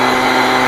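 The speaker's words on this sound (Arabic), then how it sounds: "عشان نتاكد ان هم امتزجوا مع بعضيهم على الخلاط" A kitchen blender roars steadily at close range, whirring water with sugar, apple juice and milk into one drink, loud and unbroken throughout.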